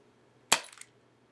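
A single sharp crack from an airsoft revolver firing BBs out of a short broken prototype shell, close and quiet, with a brief rattling tail after the shot.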